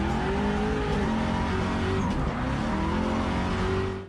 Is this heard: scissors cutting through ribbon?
no